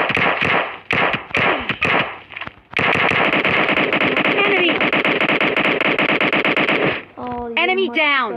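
Rapid automatic gunfire in a shooting video game, with sharp bursts at the start, then a long sustained loud stream of shots that stops abruptly. Players talk excitedly around it.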